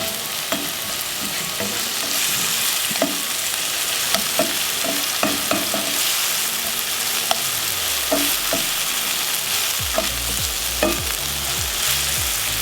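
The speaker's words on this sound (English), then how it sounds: "I'm adding a little bit of garlic. And again, I'm just going to stir that around." Onions and garlic fry in a pan while a spoon stirs them, giving a steady sizzle broken by irregular scraping and clinking strokes against the pan, with no talking.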